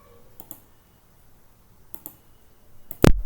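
Mouse clicks while saving a lesson in the LearnDash course editor, a few soft isolated clicks ending in one sharper, louder click, close and otherwise quiet.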